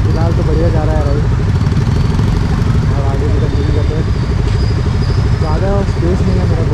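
Royal Enfield Bullet motorcycles riding in a Bangalore bike rally, a loud continuous engine thump with rising revs, with someone speaking over it.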